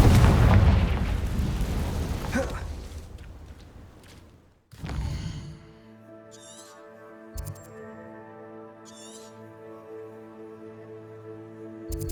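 A fiery Confringo spell explosion in the video game Hogwarts Legacy bursts with a loud, rumbling boom that fades over a few seconds before a sharp cut to quieter game tones and chimes.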